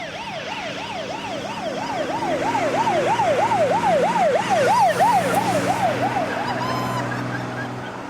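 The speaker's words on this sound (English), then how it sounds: "Now it's a siren." A wailing emergency siren rises and falls in a steady, rapid cycle. It swells louder toward the middle and fades again, heard outdoors with no talk over it.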